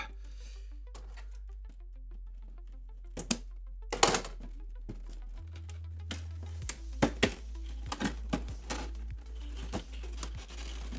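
Plastic toy packaging for a M.A.S.K. Switchblade figure by The Loyal Subjects is torn and crinkled open, with sharp rips and crackles scattered over a steady low hum, no talking.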